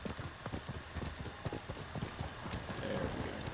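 Horse hooves clip-clop in the Ghost of Tsushima video game, a quick steady gallop rhythm of repeated thuds, fairly close and moderately loud, with a brief faint voice over the top.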